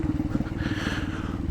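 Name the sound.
motorcycle bouncing on rough mountain trail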